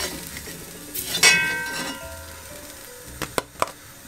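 Beef stroganoff ingredients for a Brazilian-style dish browning in a pan, a quiet sizzle with a sharp clang of metal cookware early on and a few light clinks of utensils toward the end.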